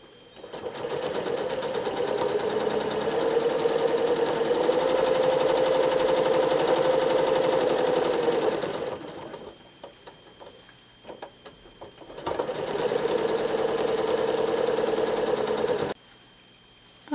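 A domestic sewing machine doing free motion quilting, with long runs of rapid whirring stitching and a shorter burst after a lull of slow, sparse stitches, heard close and steady.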